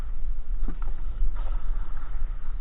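A boat rumbles low and steady on the water, with wind buffeting the microphone and faint splashes.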